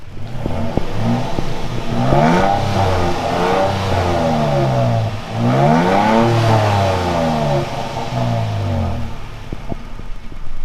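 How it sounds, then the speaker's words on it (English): A Toyota Tacoma pickup with stock exhaust revs up twice, rising and falling in pitch with a deep exhaust growl, loud and close, idling between the revs. "so that is the stock exhaust"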